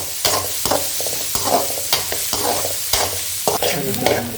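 Onions fry in hot oil in a pan, with a steady sizzle broken by regular stirring scrapes roughly every half second, close and loud with no talking.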